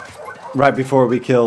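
Dog in The Last of Us Part II giving short whimpering yips and bow-wow barks, several bursts in quick succession, mixed with a person talking.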